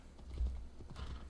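Horse hooves clip-clopping at a steady gallop across open country in Assassin's Creed Odyssey, close and fairly loud, with a brief whinny near the start of the stride.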